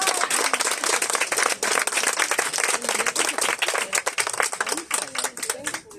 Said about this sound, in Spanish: Yo creo que esa nueva política merece un aplauso.